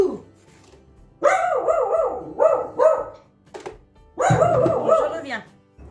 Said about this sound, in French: il est content, il est parti aboyer dehors